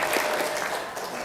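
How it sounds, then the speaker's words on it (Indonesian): An umrah pilgrimage training audience applauds together in a hall, a dense, steady wash of clapping that lasts the whole moment without any voices over it. "Tepuk tangan untuk kita semua."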